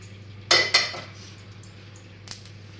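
Popped mustard seeds poured from a pan into a bowl, heard as two quick metallic clatters with a rattling patter, then a brief scrape after a lull.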